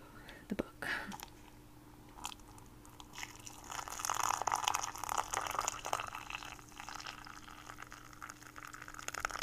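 Tea is poured near a book in a steady, soft liquid trickle that fills a cup, with a few gentle drips, quiet and close alongside soft whispering.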